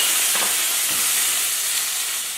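Prawns frying in sesame oil in a very hot wok give a loud, steady hiss and sizzle that holds evenly throughout, close up with no talking.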